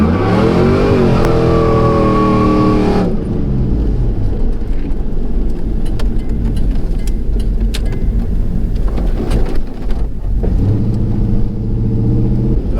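A 1998–2002 F-body car, an otherwise stock daily driver with a 3600 stall converter, no cam and no heads, accelerates hard and loses traction. A rising engine rev gives way to a loud, sustained roar with a rough, broadband rush.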